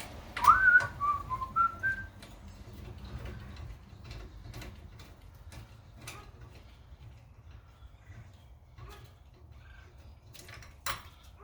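A short whistled tune rises and falls near the start, followed by scattered clicks and mechanical ticking during a VW Passat TDI rear brake job, against a low background rumble.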